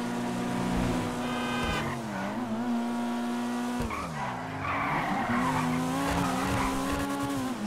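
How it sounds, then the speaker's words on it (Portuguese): A diesel Ram pickup in GTA roleplay with a whining turbo and engine drone, broken by repeated loud tire skids and squeals as it takes corners, steady and close with no talking. "Fazer o barulhinho de turbina."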